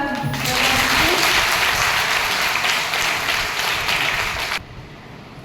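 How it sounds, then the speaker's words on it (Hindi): A crowd at an honour ceremony for women sanitation workers claps loudly and steadily for about four and a half seconds before the applause cuts off abruptly into quiet room tone. "एक बार अच्छे से ताली बजा।"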